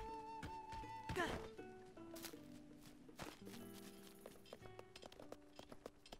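Rhythmic hoof clip-clops from a horse in the video game Zelda: Breath of the Wild, clear and close, with a steady trotting beat over a low musical background.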